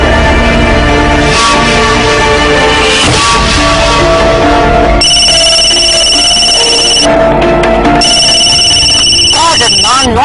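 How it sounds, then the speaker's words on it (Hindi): A phone rings repeatedly in a drama scene, a steady electronic ringtone pattern sounding loud and close over background music and voices. "Maha, pick up my phone."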